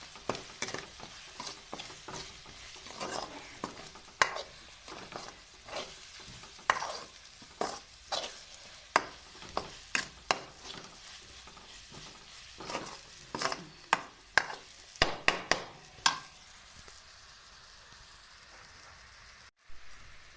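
Green chili, garlic and crushed peanut powder fry in a pan, giving a soft continuous sizzle broken by sharp scraping stirs and clacks of a utensil, close and fairly quiet, with no talking.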